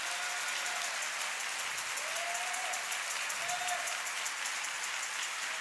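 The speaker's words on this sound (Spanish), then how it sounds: "Por favor, denle un aplauso a la palabra de Dios." A church congregation applauds the word of God during a sermon on the power of the gospel. Dense, even applause holds at a constant level for the whole stretch, with a faint voice briefly rising above it.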